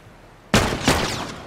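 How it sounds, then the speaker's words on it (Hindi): Two loud gunshots go off in The Last of Us during a firefight, with sharp reports about a third of a second apart that ring and decay after a quiet lead-in. "इसको पता ही नहीं वहां पे गोलियां मार रहे हैं"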